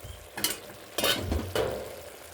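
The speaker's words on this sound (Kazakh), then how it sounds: "жақсы қуырылып жатыр" Potatoes with tomato fry in a pan with a steady sizzle, broken by a few bursts of stirring and scraping close up.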